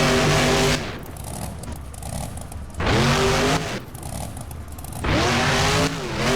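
Monster truck engine in BeamNG freestyle play, launching off stacked buses: loud revving bursts rise and fall three times, each surge roaring then dropping back to a lower idle-like drone between.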